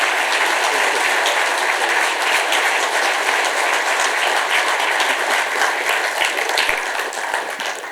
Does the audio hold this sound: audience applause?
yes